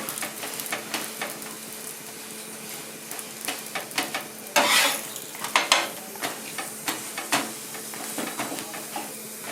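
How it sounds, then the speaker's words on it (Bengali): Lachha paratha fries in hot oil in a pan, a steady crackling sizzle broken by repeated sharp scrapes and taps of a spatula, with no talking. "সুন্দর লাল করে ভেজে নিতে হবে দেখুন কীরকম ফুলে উঠছে"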